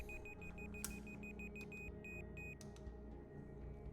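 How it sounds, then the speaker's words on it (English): An unexplained electronic beep repeats as a series of short, high-pitched pulses in an irregular rhythm, fairly faint over a low background hum. "What type of beep is this? It's getting louder."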